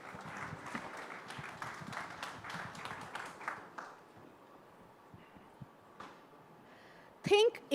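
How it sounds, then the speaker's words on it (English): An audience applauds at an AI summit, a dense burst of many hands clapping that carries for several seconds, then fades into a quieter room with scattered faint noises and a short sharp sound at the end. "A huge round of applause, please."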